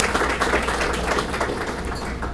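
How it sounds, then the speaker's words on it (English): Audience applause at a dinner gathering, a dense, steady wash of clapping from many people that holds at an even level throughout. "That deserves a round of applause in itself."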